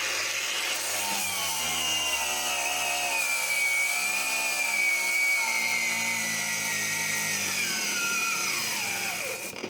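Cordless angle grinder (Heimerdinger LB183 battery model) running continuously under load, its high motor whine shifting in pitch as it is pressed harder and slowing toward a stall near the end, loud and close with no talking.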